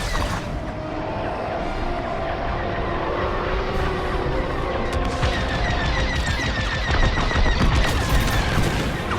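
Laser cannon fire and explosions during a space dogfight in the video game Star Wars Squadrons, a dense continuous barrage of shots and booms over engine rumble with no talking.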